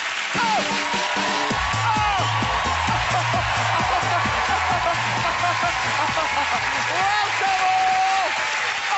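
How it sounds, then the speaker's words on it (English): A studio audience at a Graham Norton Show taping breaks into sustained loud applause and excited cheering, with whoops over steady clapping and music running underneath throughout. "And a huge dollop of crazy excited cheering."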